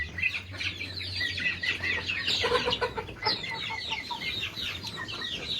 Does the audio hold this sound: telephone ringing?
no